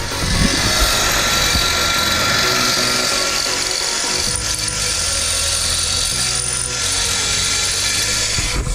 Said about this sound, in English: we're having to drill out some of the holes in the frame horn to make the bumper fit